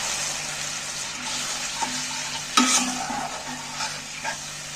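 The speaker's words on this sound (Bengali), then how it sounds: "আমি বাটি ধোয়া জল একটু সাইড দিয়ে দিয়ে দিচ্ছি" Bowl-rinsing water is poured down the side of a kadhai into cooked, sizzling spice masala, bringing a sudden splashy hiss over a steady background fry, with a few light stirring knocks.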